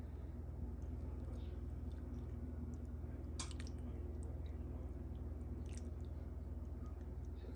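A thick topping is poured over a baked Jamaican sweet potato pudding, giving soft, wet squishing and dripping sounds close by, with a few brief sharper splatters partway through over a steady low background hum.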